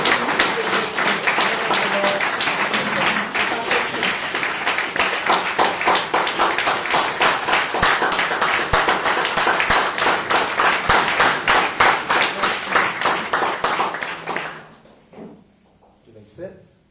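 Congregation at a Sunday church service claps to welcome a visiting pastor, a dense, rhythmic burst of applause with steady beats lasting about fourteen seconds, then dropping away to quiet room sound and a brief voice.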